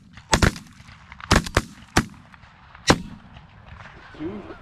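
Shotgun blasts during an outdoor goose hunt, a rapid pair followed by a further pair and two single shots, loud sharp cracks echoing across open ground, with geese honking faintly at the end.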